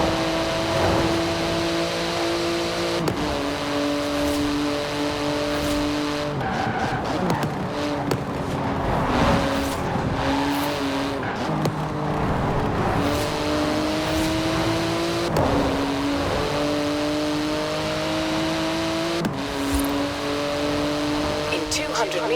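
A high-powered car in Forza Horizon 4 races along at speed, its engine note rising and falling through repeated gear shifts, with occasional tyre squeal and background game music, loud and continuous throughout.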